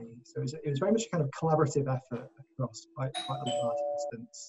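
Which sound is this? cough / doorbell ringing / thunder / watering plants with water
doorbell ringing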